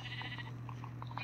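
Blocky Minecraft sheep give a few soft, short bleats in a row, quiet and slightly distant over a steady low game hum.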